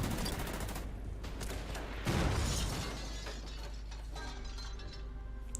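Tank combat in the Order of Battle: World War II strategy game brings rattling gunfire, mechanical clatter and a sharp explosive burst midway, all quiet and layered without speech.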